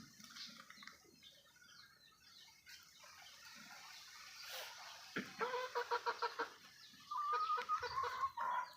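Two chickens fight, with rustling and scuffling, then bursts of sharp repeated clucking and squawking that grow louder near the end.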